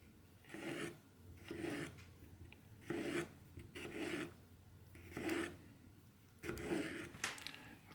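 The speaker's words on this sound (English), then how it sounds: "It slices through the peel of the tomato nicely." An Olamic Soloist Agent knife slices through tomato peel in a series of short, rasping strokes, about six evenly spaced cuts with small pauses between them, close and fairly quiet with no talking.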